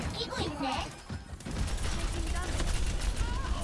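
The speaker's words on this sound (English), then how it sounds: "Ooh, micro missiles." D.Va's micro missiles fire in Overwatch 2 as a dense, rapid volley of small explosive bursts that follows brief game effects, loud and continuous, with game voices mixed in.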